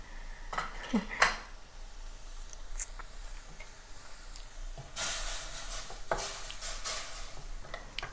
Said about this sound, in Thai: ก็เราก็จะผัด ให้หอมก่อนนะคะ ผัดเครื่องที่เราตำไว้